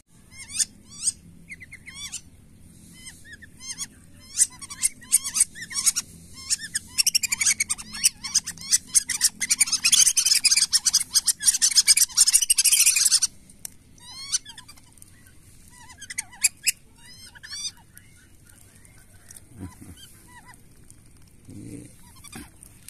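A tame five-month-old whistling duck gives repeated high, chirpy whistling calls in quick irregular bursts, close and fairly loud, with a dense flurry in the middle before thinning to scattered calls, no talking.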